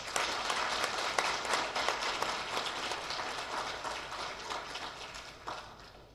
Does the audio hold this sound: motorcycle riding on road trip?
no